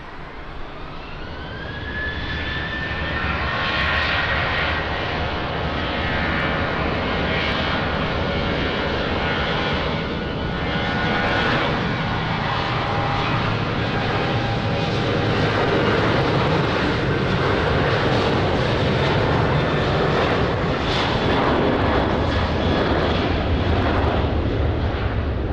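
At Lisbon Airport, aircraft engines roar steadily and loudly for the whole stretch, a jet spooling up with a rising whine near the start before settling into a broad, sustained rumble.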